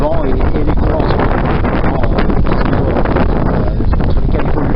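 Strong wind at sea aboard a sailboat heading through the Caribbean toward Pointe-à-Pitre, loud buffeting gusts hitting the microphone with rushing water noise, continuous and close.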